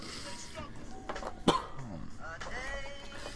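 One sharp cough amid soft throaty sounds and murmured talk nearby.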